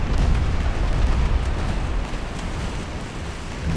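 A naval shell strikes a warship in Ultimate Admiral Dreadnoughts, set in 1917, with a heavy, low rumbling roar that lingers and slowly fades with no speech over it.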